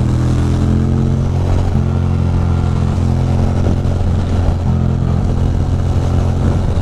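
A motorcycle engine drones loud and steady while riding fast, its low harmonic rumble holding throughout with slight shifts in pitch and some mechanical clatter, with no talking.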